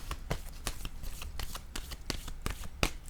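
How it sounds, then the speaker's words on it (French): Tarot cards being shuffled and drawn, a steady run of crisp riffling and flicking snaps, close and fairly quiet, with no talking. "Je vais piger une autre carte."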